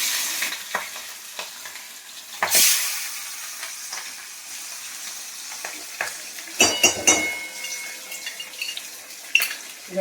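Hilsa fish frying in oil in a home kitchen, a soft continuous sizzle with scattered bursts of spattering and utensil clatter, fairly close.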